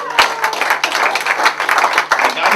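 Applause at a Pearl Harbor Day salute to WWII veterans: a brief burst of clapping from a gathered crowd outdoors, with distinct sharp claps standing out over the dense patter, fairly close and loud.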